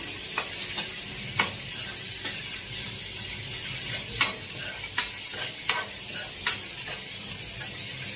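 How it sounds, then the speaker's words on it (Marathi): Onions fry to a reddish brown for a Maharashtrian gavar (cluster bean) bhaji, with a steady close sizzle broken by sharp clicks and scrapes of a spoon stirring against the pan. "ते आपला कांदा छान पैकी असा लालसर फ्राय झालाय"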